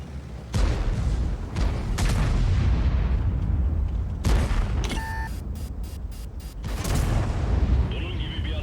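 A tank cannon firing in a game, a series of heavy booms and blasts with rumbling tails, loud and close, with several separate shots and interface beeps between them.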